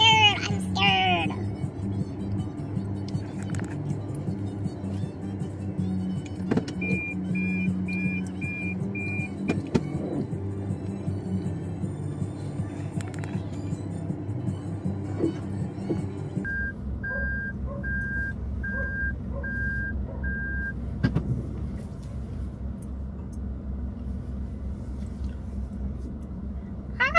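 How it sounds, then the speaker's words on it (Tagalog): Traffic on a road with a truck and a bus, a steady engine rumble under repeated evenly spaced reversing beeps, loud and nearby, with scattered thuds and clatter. "There's a truck and a bus."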